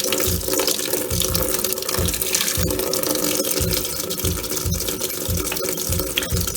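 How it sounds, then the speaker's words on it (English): Cold water pours steadily into the tub of a Kenmore laundry center washing machine for the rinse cycle, a close, continuous rushing fill with a regular low thumping beneath it and no talking. "Cold water entering the tub for the rinse cycle."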